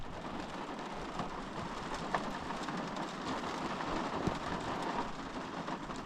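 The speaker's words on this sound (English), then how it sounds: "Listen to the rain on the roof." Rain drumming on a roof at night during a desert trip in Utah, a steady dense patter with a few louder drips standing out, continuous and without talk.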